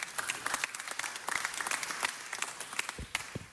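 Council chamber audience gives a round of applause for a departing honoree, brisk and continuous clapping from many hands that holds steady throughout.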